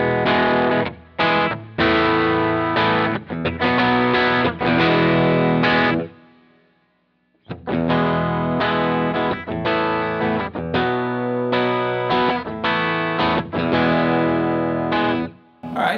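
Electric guitar played through distortion with a Mojotone vintage taper CTS 500k volume pot turned fully up, loud chords and riffs ringing with a short gap in the middle, no talking.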